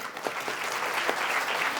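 Sustained applause from a school annual-day audience in a hall, a dense wash of many hands clapping at an even level, with no talk over it.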